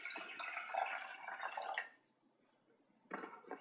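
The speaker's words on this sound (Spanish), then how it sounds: "Ponemos medio litro de agua en una cazuelita para hervir," Half a litre of water pours into a small pot before boiling, a splashing, gurgling stream for about two seconds, then a pause and a brief second pour, close by and alone.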